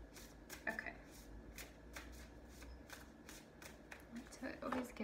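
Oracle cards being shuffled with a soft, rapid riffling texture, repeated bursts over a few seconds, close by and fairly quiet.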